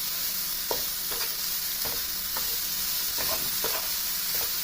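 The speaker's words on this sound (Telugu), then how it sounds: "ఇలా లో ఫ్లేమ్లో పెట్టుకొని మనము కలుపుకుంటూ ఉండాలన్నమాట చూడండి ఆ షుగర్ కరిగి పాకానికి ఇది ముద్దలా అయిపోతుంది" A spoon stirs sugar melting in a pan over a low flame while carrot sweets are made. Soft scraping strokes repeat about every half second over a faint, steady sizzle.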